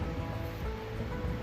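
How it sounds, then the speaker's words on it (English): Ocean waves crash against a rocky Oregon coastline, a steady loud roaring wash of surf filling the short stretch with no voices. "coastline here as the waves come in and crash and get stuck in these little inlets"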